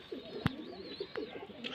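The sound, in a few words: pigeons cooing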